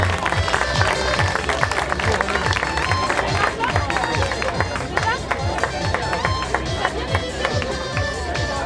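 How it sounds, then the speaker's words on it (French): At a triathlon long-distance awards ceremony, an audience applauds the men's relay winners with steady, close clapping mixed with crowd murmur and some speech, sustained throughout. "Les applaudissements pour le FC Saint-Paul en Chablais"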